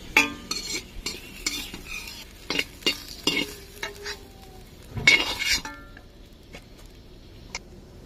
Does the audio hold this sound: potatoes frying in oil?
yes